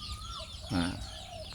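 A domestic chicken gives one short, close cluck partway through, over a quiet rural outdoor background with no talking.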